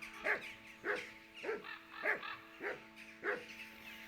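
A dog in the video game Kingdom Come: Deliverance 2 barks five times at a steady, even pace, each bark clear and moderately close against a quiet background.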